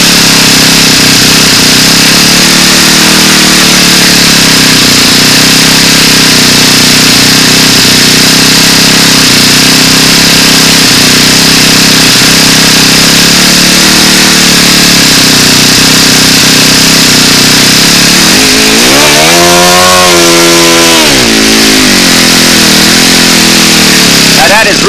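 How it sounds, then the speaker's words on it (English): A four-stroke model aircraft engine with a Venturi runs loudly and continuously near the listener, holding a steady buzzing drone before the throttle is blipped into a rising, falling rev, while someone talks over it. "if you're going to run a Venturi on a four-stroke, you want to break it in with the throttle."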